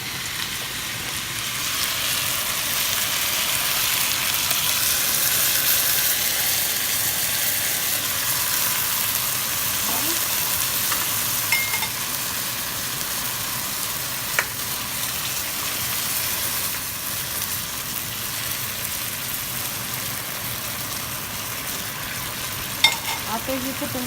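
Chicken for adobo browns in a hot pan, giving a steady, crackling sizzle with a few sharp pops and clicks from stirring over the whole stretch.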